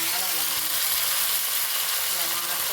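Curry leaves frying in hot oil during tempering for a Telugu home-style dish, giving a loud, dense, continuous sizzle that fills the whole stretch without spoken words.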